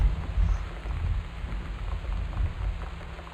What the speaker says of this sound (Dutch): Oh jeetje, hou op met het onweer.